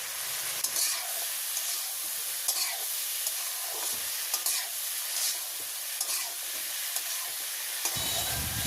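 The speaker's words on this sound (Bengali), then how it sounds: "তেল দিয়ে ভালো করে একটু ভেজে নিলাম," Food frying in oil in a village kitchen gives a steady, close sizzle, with scraping stirs and clinks at irregular intervals and no talking.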